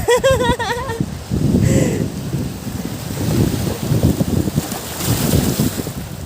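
Steady wind off the Pacific Ocean near Bislig, Philippines, rushes across the microphone, rumbling and gusting over an open outdoor scene, with voices talking near the start.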